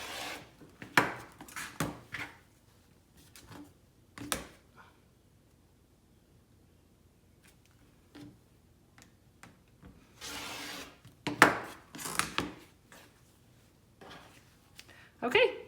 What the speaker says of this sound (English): I'm gonna go ahead and cut the rest of my strips and use all my fabric